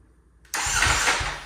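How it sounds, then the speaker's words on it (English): A salvaged Ducati Panigale V4 motorcycle takes a brief starter whir, then its engine catches at once into a loud, close, rumbling idle for its first start. "Let's see if we can get this thing cranked over and start it up."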